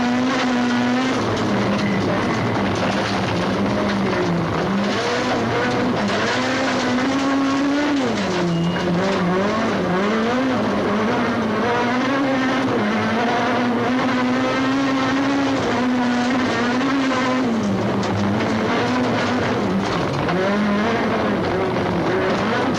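Toyota rally car heard from inside the cockpit on a Cape rally stage in 2004, its engine roaring loud and steady, revving and dropping through gear changes with tire noise throughout.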